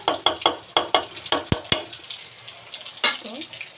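Meat and onions frying in oil in a pan, steady sizzling under a series of sharp scraping and stirring strokes, close up, with a brief quieter stretch before one more stir.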